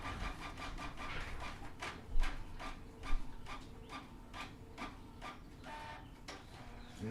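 An inkjet printer printing, with a steady mechanical whir broken by repeated rapid clicks and carriage ticks, close and moderately loud.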